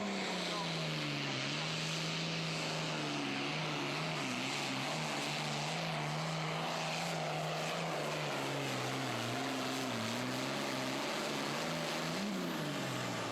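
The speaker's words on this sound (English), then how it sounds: "Ryan Anderson on the checking out tractor is going to kick it off here." A super farm tractor roars through a tractor pull, its loud, sustained engine drone rising and wavering steadily, with an announcer talking over it.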